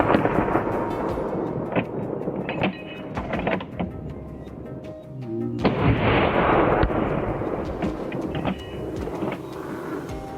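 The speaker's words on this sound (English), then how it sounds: "Within seconds, multiple shots rang out." Multiple gunshots fired at wild boars during a hunt near a swamp, a rapid series of loud, sharp blasts with rumbling echoes, several close together, with no talk.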